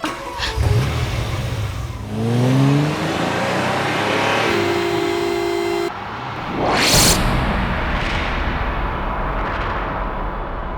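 A Ferrari driving in a Hindi TV drama: the engine revs and climbs in pitch, then a loud whooshing pass sweeps through. The car is close and fills the scene, with no talking.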